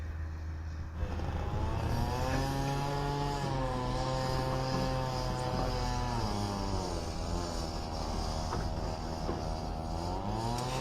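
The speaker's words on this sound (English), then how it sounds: "excuse me as this chainsaw goes in the background" A loud chainsaw drones steadily in the background, its pitch wavering up and down as it revs, continuous for the whole stretch.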